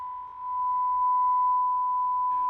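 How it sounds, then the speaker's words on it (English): A steady electronic tone from a building fire alarm sounds alone for over two seconds at a constant pitch, then cuts off abruptly. "False fire alarms are a frequent problem"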